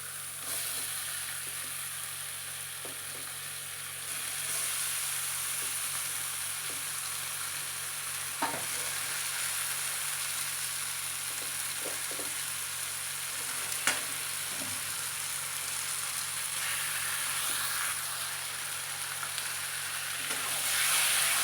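Bombay duck fish frying in hot oil with onion and chilli paste, a steady loud sizzle running throughout with a few faint clinks and stirring sounds, no talking.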